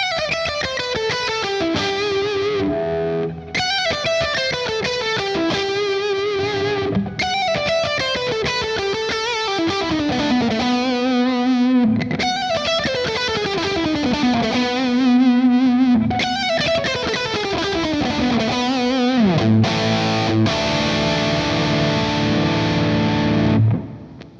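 A James Tyler electric guitar with the pickup in series as full humbucker plays distorted, effects-laden riffs and descending runs, the mid boost turned up gradually so the tone thickens and grows over about twenty seconds, loud and without talk.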